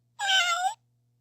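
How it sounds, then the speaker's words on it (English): A cat lets out one clear, drawn-out meow, close and alone with silence after it. "Cat."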